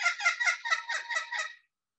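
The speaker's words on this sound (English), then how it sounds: "This is the blue-tinged kookaburra, sometimes called the common kookaburra from Australia." A common kookaburra, also called the blue-tinged kookaburra, gives a short series of about seven rapid, rhythmic cackling notes lasting around a second and a half, clear and alone, followed by silence.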